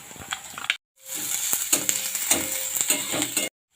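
Chopped garlic dropped into hot oil in a pan over a low flame, a bright sizzle starting abruptly close up and crackling steadily for a few seconds, with small utensil clicks mixed in.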